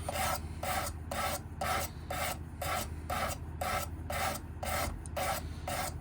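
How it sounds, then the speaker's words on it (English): A knife is drawn across a Work Sharp Precision Adjust sharpener in regular strokes, each giving a short gritty rasp, about a dozen evenly spaced passes close up with no voices. "Y'all can hear that kind of grinding sound."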